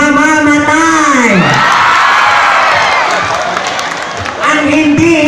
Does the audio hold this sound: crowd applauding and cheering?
yes